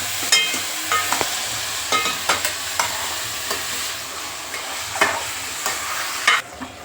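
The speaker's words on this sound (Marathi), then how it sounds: "चिकन चांगलं हलवून घेऊ." Chicken frying in a pan, stirred with repeated sharp scrapes and clinks over a continuous sizzle, close and alone without talk.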